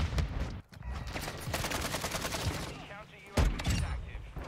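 Rapid gunfire from a shooter video game with a .50 GS weapon, a dense run of shots followed by a fresh loud burst after a brief gap, busy and fairly loud throughout.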